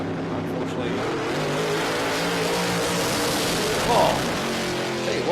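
A drag racing car on a licensing pass at Willowbank Raceway in Queensland, Australia, gives a steady, droning engine roar from a distance, holding on without breaks.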